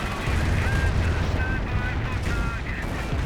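A close range barrage in the Company of Heroes video game makes a continuous, heavy roar of overlapping blasts and gunfire under a talking voice for the whole stretch.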